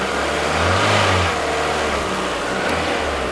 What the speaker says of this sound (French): il faut faire monter en température le moteur